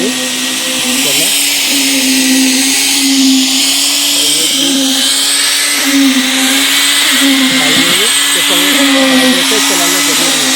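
A concrete mixer tumbling cement, gravel and sand for casting a plinth beam, a loud, steady droning motor hum with a churning, grinding rattle on top, continuous and close, with someone talking over it.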